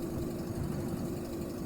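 Car engine idling in The Long Drive, a worn engine due for replacement, giving a steady low rumble that holds unchanged throughout with no other sounds.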